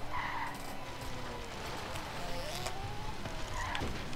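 A car in the Forza Horizon 3 racing game revs and accelerates, its engine pitch sweeping down and up through gear changes, with brief tire squeals and skids, loud and close throughout.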